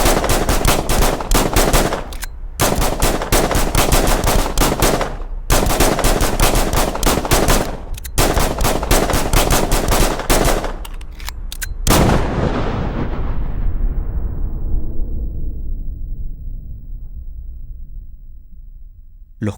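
Rapid, relentless bursts of gunfire from four police officers, 59 shots in long volleys with brief gaps, loud and dense, ending in a long echoing decay.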